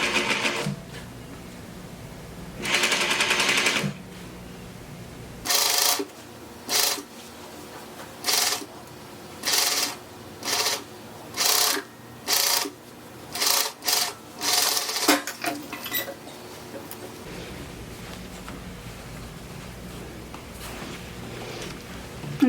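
A sewing machine topstitches a quarter inch along a narrowed edge of an armhole piece for a cowl neck top, running in about a dozen short, even bursts separated by brief pauses, close and clear with no talking.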